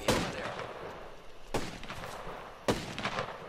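Three sharp gunshots ring out in a video game, spaced about a second apart, each a crisp crack with a short trailing echo, at moderate level against quiet background.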